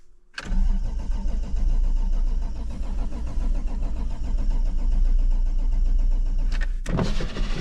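A 1988 Toyota Supra MK3, long abandoned, cranks steadily for several seconds with a loud, continuous mechanical churn that breaks off near the end before a brief final burst.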